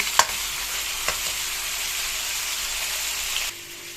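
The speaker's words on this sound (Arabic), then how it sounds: "التشويحه دي حلوه جدا، بتخلي ايه اللحمه ما يطلعلهاش ريم، تشوح من على الجنبين كده" Lamb meat is sautéed in a hot pan for a lamb and freekeh tagine. It gives a steady, close sizzle broken by a couple of sharp utensil taps, and the sound drops off noticeably near the end.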